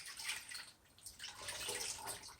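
Terry cloth rag dunked and swished in a bucket of water during drywall repair, giving soft sloshing and dripping water sounds, close and fairly quiet, with no talking.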